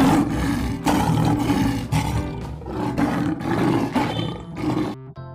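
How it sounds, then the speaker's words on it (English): A loud lion roar sound effect plays over the music of a children's alphabet phonics song, a sustained rumbling roar that fades out near the end. "L for lion."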